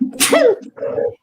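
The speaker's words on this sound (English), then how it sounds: "I gotta sneeze." A single loud, close human sneeze, with a sharp burst of air followed by a brief voiced tail.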